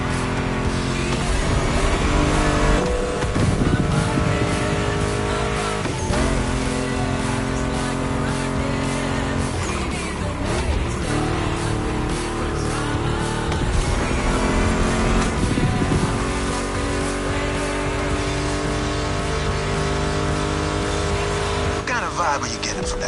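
Ford Mustang GT muscle car engine in a racing video game, roaring steadily and loud throughout with rising and falling revs and occasional tire squeal, mixed with music and a voice talking over it.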